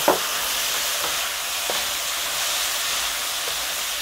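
Bamboo shoots and cuttlefish sizzle and hiss steadily in a hot pan with mirin, a loud continuous fry with a few faint clicks of stirring and no voices.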